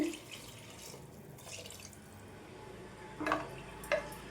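Water runs and splashes into a pressure cooker over bottle gourd pieces, with a steady trickle and two louder gushes near the end.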